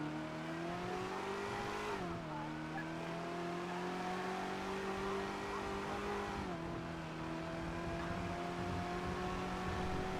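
A fast car in a roleplay driving game holds a loud sustained engine roar, its pitch shifting twice as it changes gear, with a steady gritty road noise underneath.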